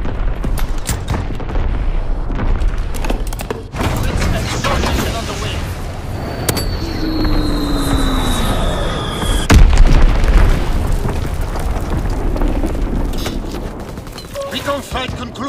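An artillery barrage rains down in Call of Duty: WWII multiplayer, with heavy booms and scattered gunfire under game voice callouts, loud and dense with a whistling incoming shell.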